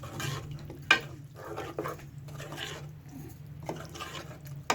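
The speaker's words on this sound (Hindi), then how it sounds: "तो अच्छे से हम हिला देते हैं ताकि मसाला जो है मिक्स हो जाए इसमें।" Spinach being stirred into a masala in a pan: irregular scraping strokes and soft wet shuffling, with a brief sharp clink of the utensil early on and a faint low hum beneath, no talking.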